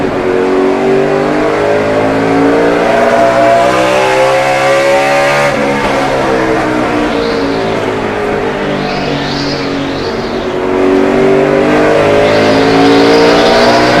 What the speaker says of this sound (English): We're riding with Tony Stewart in the 20.